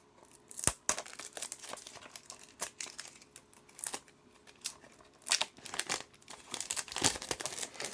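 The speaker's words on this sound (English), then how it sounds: "So let's unwrap this one." A Maxell S-LN 90 cassette tape having its pre-torn plastic wrapper peeled off, close, crisp crinkling and tearing in irregular sharp bursts, quiet between rustles, no voices.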